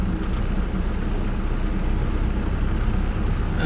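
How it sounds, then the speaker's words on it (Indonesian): A tractor loaded with harvested rice rumbles past on a rural road, a loud, steady, close engine roar mixed with rolling road noise. "traktor ini bawa padi."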